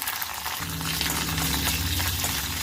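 Dried red chillies, peanuts and curry leaves sputter in hot oil while tempering for Melkote puliyogare, a dense continuous sizzle with a low bubbling undertone, close and steady throughout.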